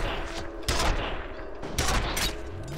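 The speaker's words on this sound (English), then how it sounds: "Is this like some kind of automatic railgun?" An automatic railgun in the video game F.E.A.R. fires bolts in two loud, rapid bursts of cracking shots over a steady background rumble.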